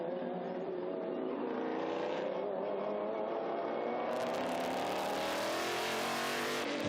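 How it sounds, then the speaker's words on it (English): A historic race car with a Judd V10 engine screams loud and close at a classic racing event at Estoril, its pitch climbing steadily as it shifts up through the gears. "feeding the Judd V10 engine. Just sounds magnificent as rockets up through the gears."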